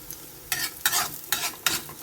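Garlic sautéing in a pan gives four quick bursts of crackling sizzle as it is stirred, short and close against a quiet background, with no talking.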